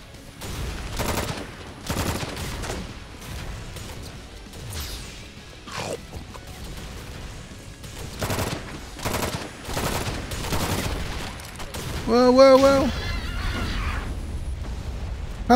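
Gunfire from a sniper rifle and other weapons in the video game Drawn To Death, with repeated sharp shots, crashes and whooshes spread across the scene, fairly loud, ending in a burst of chaotic effects.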